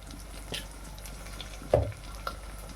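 Dried fish and tender tamarind leaves fry in a pan, a soft, steady sizzle running underneath, broken by a couple of brief utensil knocks.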